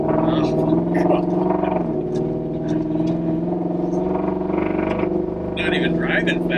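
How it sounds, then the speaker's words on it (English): A classic Ford Highboy four-wheel-drive truck with a Coyote engine rumbles steadily at low speed, a constant throaty drone beneath people talking over it. "Four-wheel drives aren't supposed to be race trucks, but it sure sounds like one."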